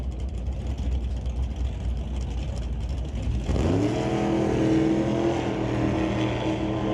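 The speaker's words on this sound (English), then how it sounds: "Trans brake did not hold. Car lurched forward out of the beams before the tree came down." A drag race car at Mission Raceway Park lurches forward when its trans brake fails to hold: a rough idling rumble abruptly rises into a louder engine surge with climbing pitch around midway, sustained to the end.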